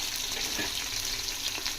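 Thinly sliced large onions and green chillies frying in a hot pan for chicken biryani, a steady broadband sizzle that holds constant throughout with no voices.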